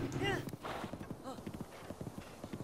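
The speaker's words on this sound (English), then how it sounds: "Very good horse." Horse hooves clip-clop steadily in Breath of the Wild, a quick regular rhythm of soft close knocks, with a voice and game sounds over them.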